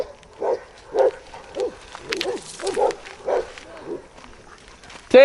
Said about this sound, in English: she's barking at this lady's dog and being a nuisance